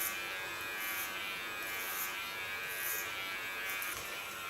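Electric hair clippers cutting through thick, strong hair during an undercut, a continuous close buzzing hum with slight rises as the blades bite, no talking.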